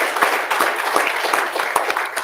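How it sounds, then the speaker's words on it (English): Applause from an audience at a Department of Homeland Security awards ceremony, a dense, steady patter of many hands clapping throughout, with no one speaking over it. "I'll do a round of applause for that"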